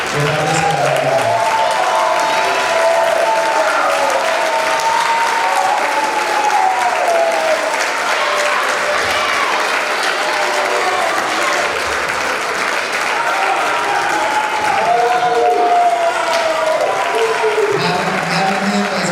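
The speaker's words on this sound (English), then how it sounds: "I need everybody to stand up and give a round of applause" A banquet crowd on its feet giving sustained applause for an award winner, thick continuous clapping with cheering mixed in and a few voices calling out over it.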